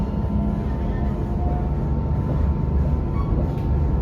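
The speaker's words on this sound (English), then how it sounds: "And we are now departing Twyford." A Reading-bound passenger train pulls out of Twyford station on the Great Western Main Line, its steady low rumble and rolling wheel noise filling the carriage continuously and loudly, with faint tonal hums above.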